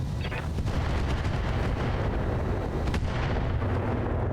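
Heavy weapons fire in the mech combat game BattleTech, a dense, continuous roar of booming shots and blasts, loud and close, with a few sharper cracks cutting through the barrage.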